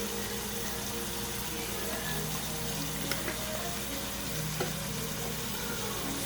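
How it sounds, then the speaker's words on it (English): Ground beef with oregano sautés in a pan, a continuous hiss and sizzle at moderate level with a couple of brief utensil ticks. "I'm going to also saute in the ground beef."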